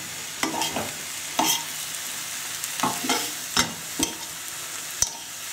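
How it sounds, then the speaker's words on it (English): About 350 grams of thickly sliced chestnut mushrooms fry in a pan over high heat, a quiet steady sizzle punctuated by irregular clacks and scrapes from stirring. "Give them a stir."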